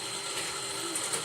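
Two 10mm bolts are tightened on a 2000 Honda Civic headlight, giving a brief close run of ratchet clicks under a steady background hiss.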